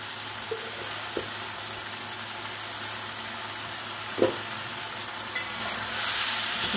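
Spices with a little sugar and ground cumin frying in a pan for a crab curry, a steady broadband sizzle with a few soft scrapes of stirring, alone and fairly quiet.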